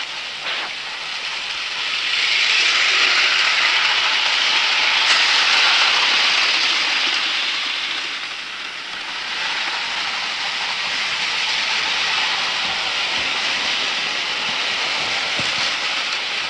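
A model train runs along its track with a steady whirring rumble that swells, eases off, then continues evenly. No one speaks.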